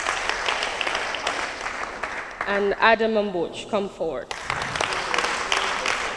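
An audience at a poetry slam quarter-final in Gambia claps steadily. The clapping fills the start and end, with an announcer's voice speaking briefly in the middle.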